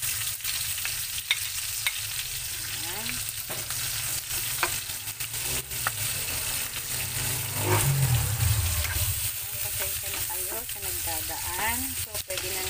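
Garlic and then onion sautéing in a little oil in a pan for a pork curry, with a steady close sizzle broken by repeated scrapes and clinks of stirring.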